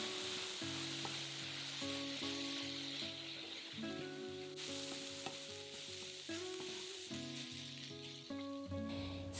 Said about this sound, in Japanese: 中火で玉ねぎと人参を炒めます。